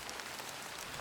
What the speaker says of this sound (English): Oh no, it's raining. Raining hard.